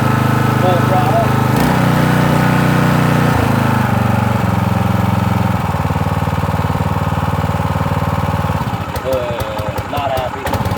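A Champion 3200 psi pressure washer's small gas engine runs hard at full throttle, a loud steady drone with a strong low hum that shifts pitch a few times before some rattly clatter near the end.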